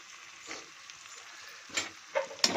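Tomatoes and ginger paste stirred in a frying pan for country-rooster pepper chicken, with a soft sizzle and a few scraping stirs, the louder strokes clustered near the end.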